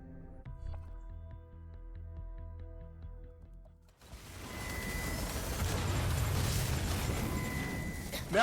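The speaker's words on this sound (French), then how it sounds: "l'explosion m'a fait tomber du bâtiment" A calm musical passage in Watch Dogs: Legion breaks off halfway when a loud explosion bursts in, followed by a sustained rumbling, crackling wash of debris.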